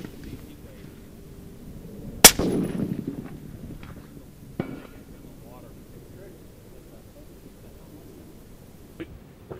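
A single FN SPR .308 rifle shot fires at a 400-yard target outdoors at a range, one sharp crack followed by a short rumbling decay, then quiet wind noise with a few faint knocks.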